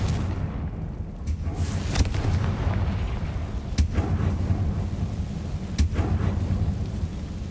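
Confringo fire spell from Hogwarts Legacy bursting with a few sharp booming cracks over a dense rumbling roar, loud and close, with no one talking.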